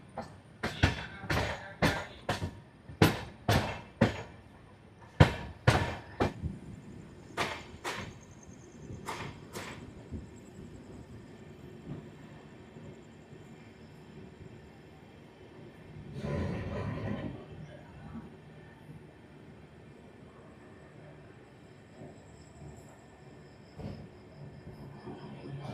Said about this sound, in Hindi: अभी हमारी ट्रेन, ये मान के चलो आप कि बहादुरगढ़ से पहले क्रॉल कर रही है।